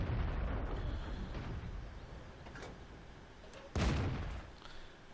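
Tank gun firing in World of Tanks, a low rumbling backdrop broken by one sharp, heavy cannon blast near the end that rolls off quickly.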